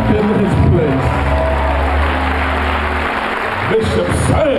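Church congregation clapping and cheering at a gospel service, loud dense applause with whoops and shouts, an organ or keyboard chord sustained underneath.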